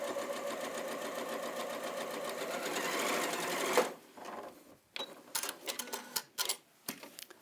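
An Elna 720 PRO sewing machine stitches a folded hem in a steady, fast mechanical whir for several seconds, then stops and gives way to short irregular clicks and handling taps, close and clear.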